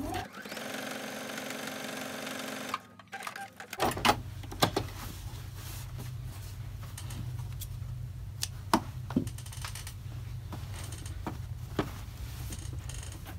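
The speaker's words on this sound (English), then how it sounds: "Then I'll just stitch down this piece." Sewing machine stitching down a piece of quilt-as-you-go log cabin fabric for a Halloween table topper; a steady, fairly quiet mechanical hum runs for most of the span, with a few light clicks and knocks after a short pause.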